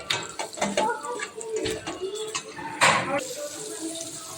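Water splashes and pours into a pan of frying chilli and coriander for fish curry in a short burst while a person talks over it.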